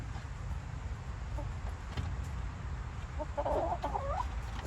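Chickens in their run, a few soft clucks emerging late from steady outdoor noise, fairly close but not loud.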